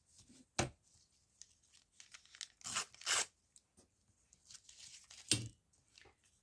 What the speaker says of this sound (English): So that bit's got a bit of tape on, so I'll get rid of that bit.